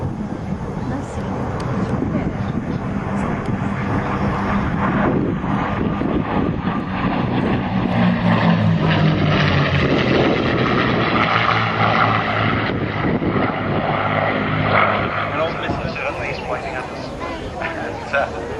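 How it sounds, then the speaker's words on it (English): Propeller engines of P-51 Mustang warplanes drone steadily through a low pass at the Duxford airshow, loud and continuous with wind noise, while an announcer talks over the PA. "So nice and tight, another pass with the Mustangs from your right."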